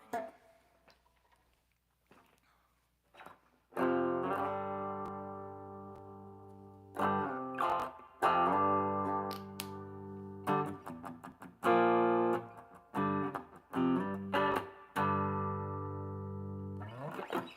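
Distorted electric guitar through an amplifier, sustained chords and short stabs with pauses between, loud and close, starting after a quiet stretch of fiddling.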